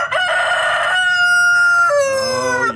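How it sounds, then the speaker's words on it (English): A rooster crows close by in a long, loud, drawn-out cock-a-doodle-doo with a rising opening and a wavering, falling tail, heard on its own. "roosters crow all the time"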